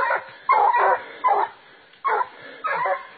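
A hunting dog on a Wisconsin bear hunt barks in six loud, close bursts at a quick uneven rhythm, with near-silent gaps between.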